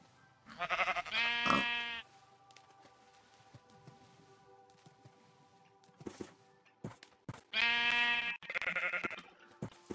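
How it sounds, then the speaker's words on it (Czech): Sheep bleat in a video game while a player builds an animal pen, two loud bursts of bleating, one near the start and another near the end, with soft thuds and footsteps in between. "Ještě ta jedna ovca musí."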